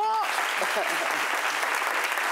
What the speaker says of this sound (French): Merci d'applaudir ta femme, madame